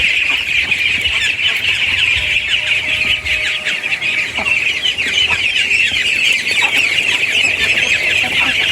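A batch of duckling ducks feeding on a farm fill the air with a dense, continuous chorus of high peeping and chattering, close and loud throughout with no talk.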